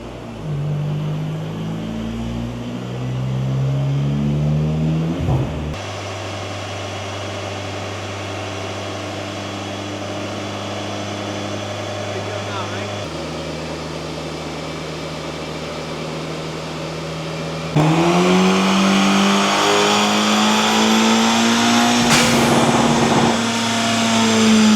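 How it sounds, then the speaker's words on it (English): A 2024 Acura Integra DE5 with a flex-fuel E85 tune on a dyno, its engine climbing through long, rising revs, dropping back and pulling again to a loud, high-pitched peak, with no talking. "let's put it on there and let's see what she does"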